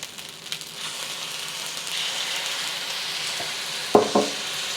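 Fried rice with soy sauce toasting on the bottom of a hot pan, a steady soft sizzle running throughout, ending in two sharp utensil clinks near the end.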